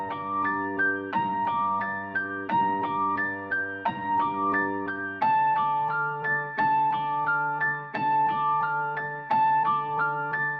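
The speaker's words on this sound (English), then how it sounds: "Next up we have the piano." Piano chords repeat in a steady, even rhythm with clear, ringing tones. The playing is moderately loud and there is no talking.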